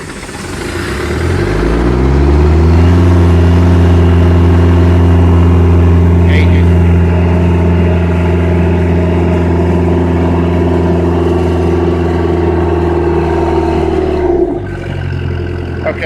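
The Cummins diesel engine on a Joy air compressor settles into a loud, steady idle. It winds down from a higher speed into a deep, even drone with a strong low hum, then shifts near the end. A voice is heard briefly.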